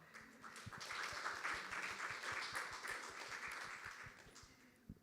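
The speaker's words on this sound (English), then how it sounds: "round of applause for the contribution so far." A conference audience at an inclusive transport and travel session gives a round of applause, a fairly quiet, distant-sounding patter of many hands with a few distinct low thumps, continuing evenly and fading near the end.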